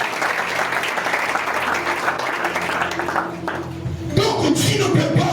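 Church congregation applauding during a sermon: a sustained wash of clapping mixed with voices, rising slightly louder toward the end, fairly close and dense.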